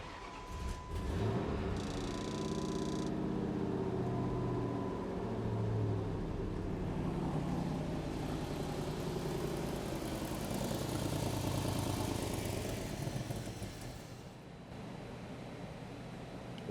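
An abandoned 1959 Pontiac Catalina project car with an exhaust leak fires up and settles into a steady, rumbling idle that runs close and continuous with a slight dip near the end.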